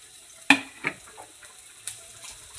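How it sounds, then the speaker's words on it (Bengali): Chopped onion, ginger and garlic dropped into hot olive oil with cinnamon, starting with a sharp hiss as they hit the pan, followed by softer sizzling and a few stirring scrapes, close and fairly quiet. "এবারে দেব আমি কুচনো পেঁয়াজ, কুচনো আদা আর কুচনো রসুন।"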